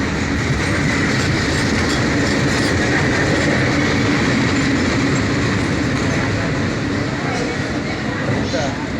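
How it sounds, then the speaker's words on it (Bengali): A train passes very close, filling the whole stretch with a loud, unbroken roar of rumbling wheels and rattling carriages. "অল্পের জন্য আমরা ট্রেন থেকে বেঁচে গেলাম।"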